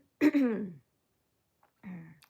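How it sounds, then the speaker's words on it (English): A short throaty clearing sound, then a brief pause and a softer vocal noise, close and quiet. "I clear my throat."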